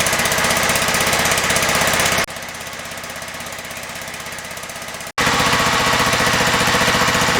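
A John Deere STX38 lawn tractor engine runs steadily at about 1800 RPM to break in the camshaft, a fast, even rhythm, dropping in level for a few seconds before returning loud and close.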